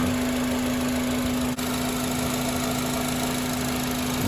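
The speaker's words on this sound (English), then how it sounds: "trying to get the engine and transmission warmed up" A Honda engine idles steadily while warming up, a constant low hum with a strong steady tone and light mechanical vibration, close and continuous with one brief dip, no talking.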